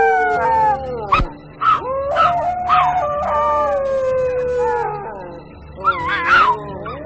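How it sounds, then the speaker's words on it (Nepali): A dog howls in long, wavering, mournful cries that rise and fall several times, loud and close, setting an eerie mood in a ghost story. "हर्के झन् डराइरहेको थियो र कुकुर रुने आवाज पनि चलिरहेको थियो"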